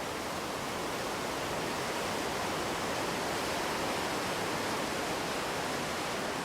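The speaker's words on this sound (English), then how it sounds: "the Orange River gushes over the granite rim and plunges 230 feet to the bottom of a gorge" The Orange River gushes over a granite rim at Augrabies Falls and plunges 230 feet into a gorge, a steady, dense broadband roar with no letup and no voices.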